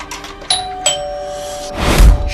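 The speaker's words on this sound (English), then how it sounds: "they are interrupted by someone ringing the doorbell downstairs" A doorbell in a movie scene rings with two bright chimes in quick succession, followed by a low thump and rustling, with no speech.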